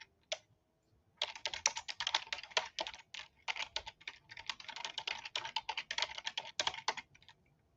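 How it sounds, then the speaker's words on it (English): Fast typing on a computer keyboard: rapid, close clicking keystrokes in dense bursts with brief pauses, heard alone without talk. "I know I type fast, 92 words a minute"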